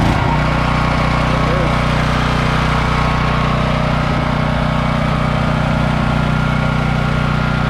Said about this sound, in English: she should hopefully start right up